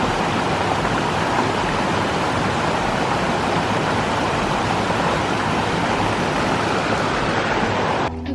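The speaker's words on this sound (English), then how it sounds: "ain't nothing quiet about a waterfall." A waterfall in a Pacific Northwest forest roars as a loud, dense, unbroken rush of water that cuts off abruptly at the end.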